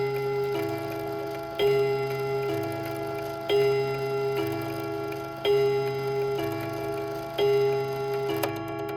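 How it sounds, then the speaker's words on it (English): A vintage 1930s Sessions mantel clock strikes five two-tone chimes in a steady, evenly spaced sequence, each pair ringing clearly and leaving a sustained resonant hum that carries between strikes. "it'll do 5 two-tone chimes"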